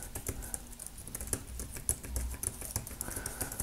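Rapid, uneven clicking of keys being typed on an Inateck KB01101 compact wireless keyboard, close up and fairly quiet, with soft irregular taps continuing throughout.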